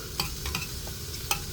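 Green onions sizzling in a pan on a propane stove while a utensil scrapes and stirs them, a soft, steady fry with a few sharp taps.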